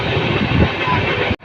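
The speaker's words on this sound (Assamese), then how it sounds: "ক্ৰমান্বয়ে ৰেলৰ গতি বাঢ়ি গৈছে।" An express train rolls along the rails as it gathers speed, a loud, continuous rumble heard from inside the carriage that cuts off abruptly at the end.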